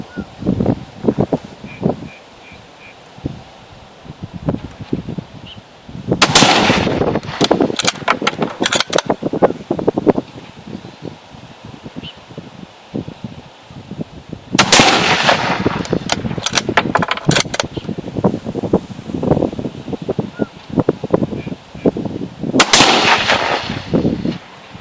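Three sharp rifle shots from a thin-barreled GA Precision Non-Typical firing 139 grain Lapua rounds outdoors in strong 35 mph wind, spaced several seconds apart, with gusty wind rustle filling the gaps.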